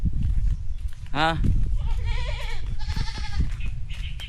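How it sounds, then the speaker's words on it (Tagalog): A goat bleats nearby with a shaky, wavering cry, then bleats again a few times while people talk over a low background rumble. "Ito ang aming kambing guys."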